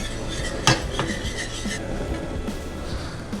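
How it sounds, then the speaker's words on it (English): Wasabi cream sauce whisked in a pan, a sharp metal clink followed by quick scraping and tapping of the whisk against the pan, close and brisk over a soft background hum. "I'll whisk it around and put that back on the stove."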